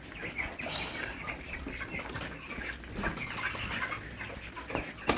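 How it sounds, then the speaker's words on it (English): Sick chicken on a poultry farm wheezing and coughing, rough raspy breaths and short coughs close by amid other bird noise, no talking. "He's wheezing, coughing."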